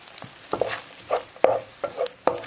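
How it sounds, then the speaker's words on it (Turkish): Onions sautéing in oil in a pot, with irregular scrapes and taps of a spoon stirring them every half second or so over a faint sizzle. "Soğanlarımı güzelce kavuracağım"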